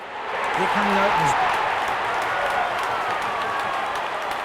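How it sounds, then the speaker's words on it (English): A dense stadium crowd roars and cheers in a steady, loud wash as cricket players walk out onto the ground at an IPL match between KKR and GT, with a commentator's voice talking over the noise. "Huge cheers from the crowd as the players make their way out into the ground."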